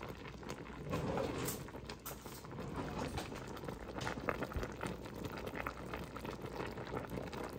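A salmon head sinigang soup boils in a pot, giving a steady, close bubbling and gentle liquid patter that runs evenly throughout with no one talking.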